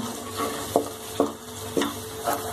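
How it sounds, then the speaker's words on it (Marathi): Masala sautéed in oil in a pan for Bhogichi Bhaji, a close spatula scraping and stirring in a loose rhythm of about five strokes over a soft sizzle. "आता हा मसाला छानसं परतून घ्यायचं"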